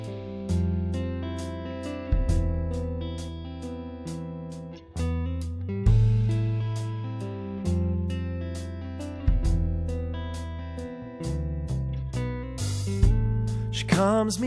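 Layered intro guitar parts play back as one mixed track, strummed chords and picked notes ringing in steady phrases with bright high accents, loud and unbroken with no voices.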